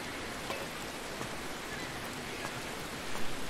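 Steady, dense rain in a video game, close and even, a constant hiss of falling drops with faint pattering ticks throughout.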